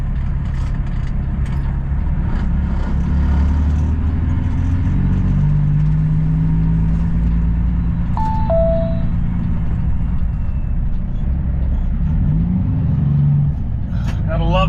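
Inside a truck cab on a detour through a Minnesota neighborhood, a loud, steady engine and road rumble drones throughout, with a short electronic tone midway and a voice speaking over the noise.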